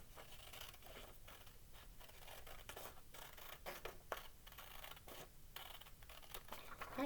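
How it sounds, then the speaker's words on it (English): Soft, irregular snipping and crinkling of scissors working through paper, close by and fairly quiet, continuing steadily for several seconds with no talking. "now I'm going to take my scissors and cut my"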